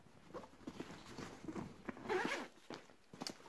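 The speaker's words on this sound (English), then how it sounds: "So you unzip it around the sides here." A zipper is drawn around the sides of a Tenba Axis 20L backpack, a series of close, scratchy ripping pulls with small pauses and fabric handling in between.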